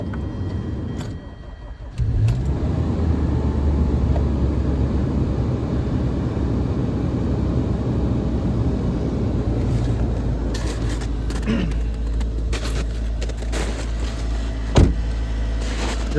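A high-mileage front-wheel-drive car cold starting in severe winter cold around -8 to -16 C: a short cranking burst, then the engine catches and settles into a loud, steady rough idle with a faint clunk near the end.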